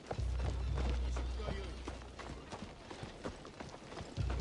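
Horse hooves clop in a steady rhythm in the Assassin's Creed Shadows video game, moderately close over a low rumbling background.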